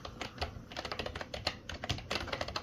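Fast, quiet clicking keystrokes come in irregular bursts from an Aula F3099 wireless keyboard with a media knob, heard up close with no talking.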